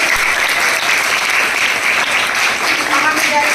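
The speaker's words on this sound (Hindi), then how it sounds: "जोरदार तालियां बच्चों।" Children at a girls' school honouring ceremony applaud in a loud, continuous burst of clapping that holds steady throughout, with some crowd murmur beneath it.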